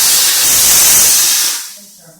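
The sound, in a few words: steam cleaning jewelry to remove pickle residue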